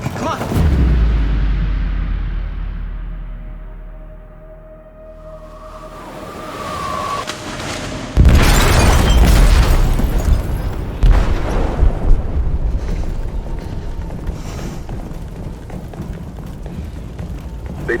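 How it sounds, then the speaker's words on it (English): A deep booming explosion in a ship's hold in the game Detroit: Become Human: a heavy low rumble at the start fades away, then a second massive blast roars in and rolls on as a long, loud, churning rumble with debris. "They detonated an explosive in the hold."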